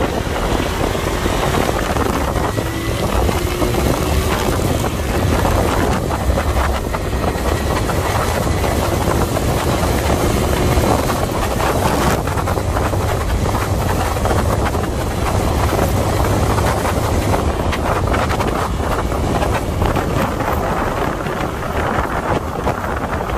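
A Honda Future 125 motorcycle rides along with its engine running quietly, heard as a steady, dense roar of wind and road noise that stays level and close throughout, with no talking.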